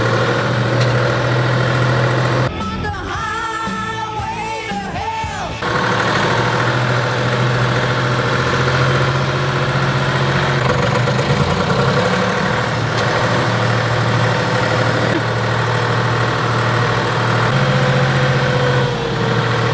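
A tractor engine idles with a steady low rumble and vibration throughout, close and loud, briefly overlaid by a burst of other noise early on.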